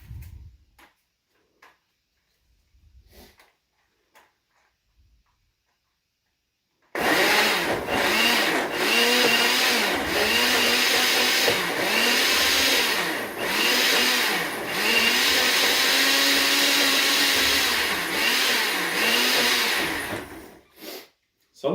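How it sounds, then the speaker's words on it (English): After a few seconds of faint knocks, a blender pulsing salsa verde roars in for about fourteen seconds, its loud motor whirring steadily with rhythmic dips and surges as the contents churn. "we're going to pulse the salsa in the blender to our desired consistency"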